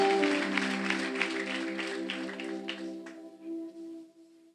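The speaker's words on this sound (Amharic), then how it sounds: "ለጌታ በደንብ አጨብጭቡለት።" Church congregation applauding for the Lord, a thick wash of clapping over sustained organ-like tones that thins and fades toward the end.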